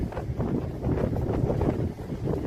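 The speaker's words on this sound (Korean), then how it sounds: "파도 바람소리" Steady winter wind roars across the microphone by the sea at Sokcho, South Korea, with a low, surging wash beneath it like waves breaking nearby.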